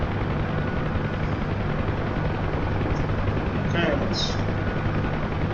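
A Bell UH-1 Huey helicopter in flight makes a steady, loud rotor and turbine roar heard from inside the cabin, with a voice speaking briefly over the drone.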